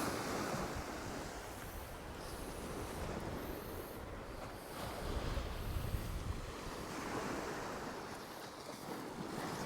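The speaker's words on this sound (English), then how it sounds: "Water splashing over the edges down here." Sea water surges and splashes over new sea defences on the Cromer coast, a continuous washing roar of surf with wind buffeting the microphone and no one speaking.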